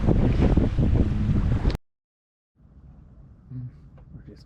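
Wind buffets the microphone while sailing on open water in southwest winds, loud and gusty for almost two seconds before cutting out, then a quieter stretch of breeze and water follows with a voice.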